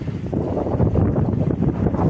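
A sailboat under sail off northern Guadeloupe, with a steady broadband rush of wind and water against the hull, loud and continuous and without speech.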